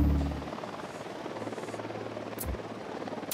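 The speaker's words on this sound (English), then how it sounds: "We'll need that chopper." A helicopter in the Ghost Recon Wildlands video game, a steady low rotor thrum with a faint engine whine, moderately loud and continuous with no talk.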